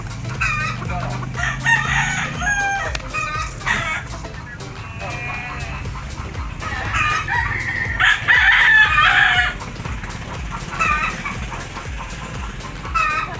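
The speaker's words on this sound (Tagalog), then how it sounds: "Maingay mga manok dito." Chickens cluck busily close by while roosters crow repeatedly, with farmyard noise underneath, in a rural province.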